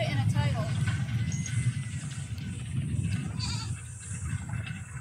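Goat-like bleats, a sheep bleating, rise over steady background chatter, with several wavering calls scattered through the clip.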